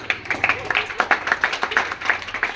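Students clapping on cue at a classroom event for International Women's Day, a quick run of separate hand claps from a small group, fairly close and steady for a couple of seconds.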